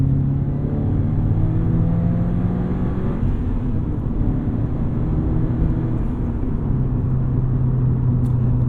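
A 2022 Subaru BRZ pulls away under steady acceleration, its engine holding a loud, close, continuous rumble with rising tonal whine through a clutch-assisted first-to-second shift, with no voices over it.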